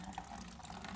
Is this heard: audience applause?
no